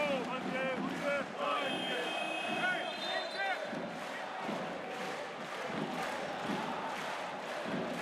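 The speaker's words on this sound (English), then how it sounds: "And the crowd getting lively." A crowd in a basketball arena at a Lebanon v New Zealand FIBA World Cup qualifier grows lively with a rising roar and shouts, mixed with ball bounces and a commentator's talk.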